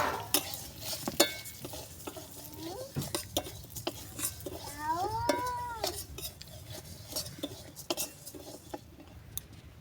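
Moong dal dry-frying in a wok (kadai) makes a rattling, scraping texture as it is stirred, with frequent metallic clinks of the spoon against the pan and a faint sizzle beneath; a cat mews briefly partway through.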